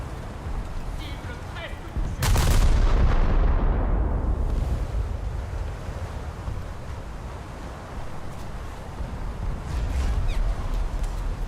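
Naval guns fire at an enemy ship in a warship video game: a single heavy, close boom lands about two seconds in, then a broad rumbling roar carries on for the rest of the clip.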